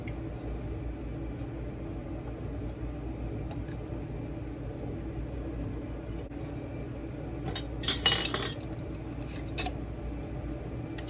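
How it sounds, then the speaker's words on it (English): Metal canning lids set onto the rims of glass jars filled with plum ketchup, giving a short cluster of bright metallic clinks and taps near the end over a steady kitchen background hum. "Put these clean lids on."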